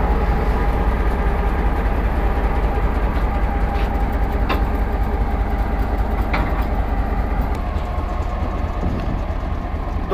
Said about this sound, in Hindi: लोकोमोटिव डिटैच हो गया है 6 PD के शटल ट्रेन का, तो अभी इसको आगे ले जाए कि दूसरी साइड पे इसको अटैच करेंगे